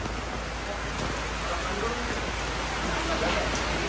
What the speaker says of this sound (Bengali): কি পরিমাণে বৃষ্টি হইতেছে আজকে।